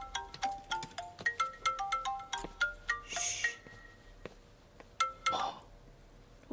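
A melodic mobile phone ringtone plays a repeating sequence of clear electronic tones, loud and close, with brief clinks and muffled background voices around it.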